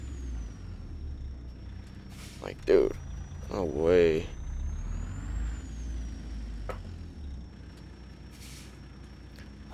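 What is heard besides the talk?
truck air brakes in a video game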